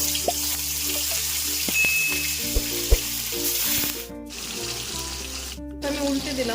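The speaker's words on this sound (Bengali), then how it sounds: "আমি ঢাকা দিয়ে ভাজছি মাছটা খুবই ফুটছে" Koi and singi fish frying in hot oil in a covered pan, a steady bubbling sizzle with occasional sharp pops and clinks, close and moderately loud, no talk.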